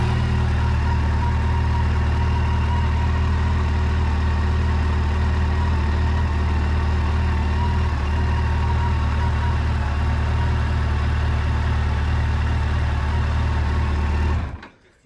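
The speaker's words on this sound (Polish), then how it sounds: "Natomiast motocykl odpalił. Pracuje jako tako ale pracuje. Zaworki słychać troszkę klepą." A neglected Yamaha FJR1300 motorcycle idles steadily and loudly up close with a faint valve tick, running alone for about fourteen seconds before it cuts out abruptly at the end.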